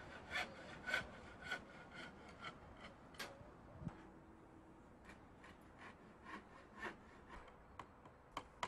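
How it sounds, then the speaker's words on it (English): Hand saw cutting timber stakes, a steady run of rhythmic rasping strokes close to the microphone, moderately loud against a quiet background. "Start by cutting several lengths of timber stakes."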